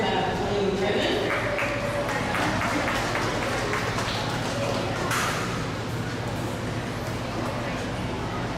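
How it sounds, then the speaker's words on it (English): An audience at a county 4-H/FFA rabbit show claps steadily in a large hall, the applause continuous and moderately loud while an announcer talks over it. "Let's give Chloe a round of applause for that blue ribbon."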